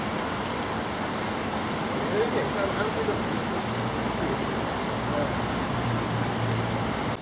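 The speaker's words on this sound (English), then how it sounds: "Now stood by the very fast flowing River Itchen." The fast-flowing River Itchen in Winchester produces a steady, close rushing roar. The broad wash of water continues unbroken and fairly loud throughout.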